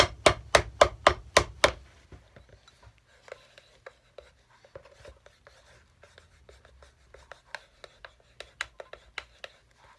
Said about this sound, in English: I just don't like it moving on me when I'm trying to hammer on the soles